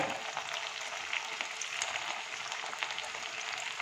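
Mutton pieces and potatoes fry in hot oil for a Bengali mutton curry, giving a steady, dense sizzle and crackle that holds evenly throughout with no voices.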